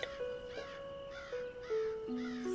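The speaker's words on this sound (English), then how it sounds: "Do you hear more birds?" Crows caw repeatedly in the open air on an autumn walk, several harsh calls overlapping at moderate distance over a steady outdoor hum.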